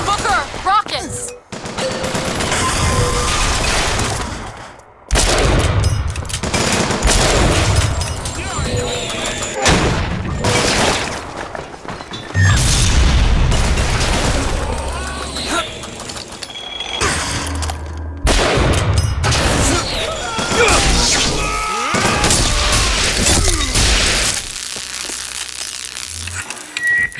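Turret gunfire and rocket blasts in BioShock Infinite combat: dense, sustained shooting with heavy booms and crashes throughout, and voices breaking through the chaos at times.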